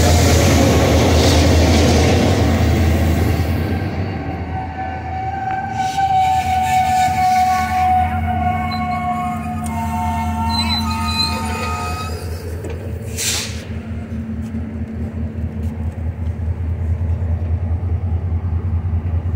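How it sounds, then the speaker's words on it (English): A train pulls into a station on the route to Sousse, its loud rumbling engine and rolling wheels dominating, with squealing brakes and a rhythmic clatter of railcars as it slows over nearly twenty seconds. "Here comes the train."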